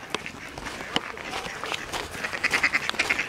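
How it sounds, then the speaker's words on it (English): Ducks quack at an outdoor site near a railway and castle, giving a run of close, nasal calls that grow busier and louder toward the end over soft background noise and scattered clicks. "Look at these ducks."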